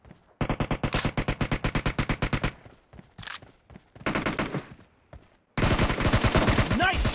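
Rapid automatic gunfire in a PUBG team deathmatch: a long rattling burst, short gaps with scattered shots, then another sustained loud volley, close and dominant with no speech.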